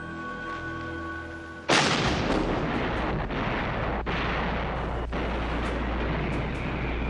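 An Allied artillery bombardment of German positions in a war documentary: a sudden loud blast is followed by dense, sustained rumbling, with further distant thuds and booms rolling through it. No one talks.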